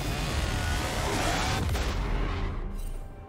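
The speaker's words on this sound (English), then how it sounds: "Blue team's turret has been destroyed." A turret crumbling in the League of Legends video game, a dense, roaring burst of crashing and rumbling debris that holds steady and then fades out at the end.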